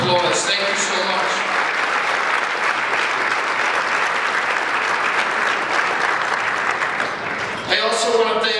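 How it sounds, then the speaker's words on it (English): A large audience gives a sustained round of applause at a college legends night welcome event, loud, dense clapping lasting several seconds, briefly dipping near the end with a voice heard at the start and finish. "Let's give them all a huge round of applause"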